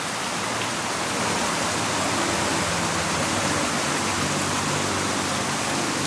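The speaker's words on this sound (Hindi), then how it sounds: "ये पीछे मेरे एक झरना सा बना हुआ है।" Falling water rushes in a continuous broadband hiss, like a small waterfall close by at Danga Bay, Malaysia, with no voices.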